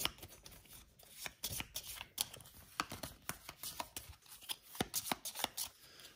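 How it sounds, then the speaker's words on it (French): A deck of cards from the Imperium: Legends board game is shuffled by hand, giving a quick run of crisp riffling snaps and flutters in irregular bursts, close and fairly quiet, with no talk. "je dois compléter avec les cartes de la défausse que je vais remélanger"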